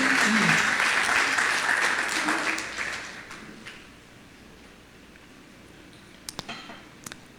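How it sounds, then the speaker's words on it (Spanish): A church congregation breaks into broad, dense applause at a Sunday service, loud for a few seconds and then fading to a quieter room. A few sharp knocks come near the end, with some voices mixed in. "Dale un aplauso al Señor"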